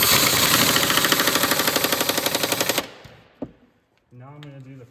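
A pneumatic impact gun set on low tightens a lower control arm bolt on a 2010 Ford Focus with a loud, close, rapid hammering rattle for nearly three seconds. A sharp clunk and a brief voice follow.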